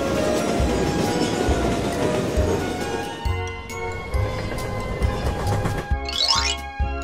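A freight train rolls past with a heavy rumble and rhythmic clanks of wheels over rail joints, with metallic squeals and clinks as it fades.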